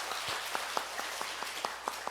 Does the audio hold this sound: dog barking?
no